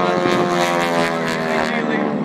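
Propeller airplanes flying a precision formation pass at an air show in Stuart, Florida, give a loud, steady engine drone that holds evenly throughout.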